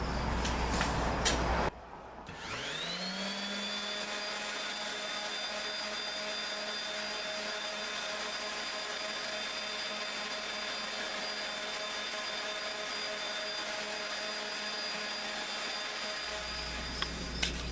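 A power sander spins up after a brief knock and runs with a steady, loud whine while wood fretwork is being sanded, then cuts out near the end.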